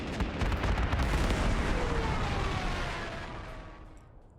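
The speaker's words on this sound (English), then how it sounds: "We're gonna take some AA fire" Anti-aircraft fire in the Panzer Corps 2 war game comes as a loud, dense rumbling barrage of blasts that fades over about four seconds.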